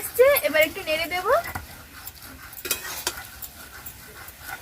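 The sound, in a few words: stirring taro leaves (kochu shak) in a pan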